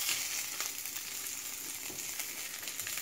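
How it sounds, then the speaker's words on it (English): Sesame-crusted tuna searing in a hot pan, a steady close hiss and crackle of frying that carries on without a break and with no talking. "Let me sear a little bit more."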